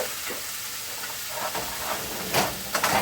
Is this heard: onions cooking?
yes